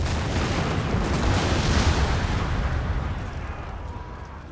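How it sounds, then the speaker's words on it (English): Cannon fire in the Shogun 2: Fall of the Samurai strategy video game, a dense rumbling roar of booms that swells and slowly fades, loud and continuous without talk. "We'll just weather their cannon fire."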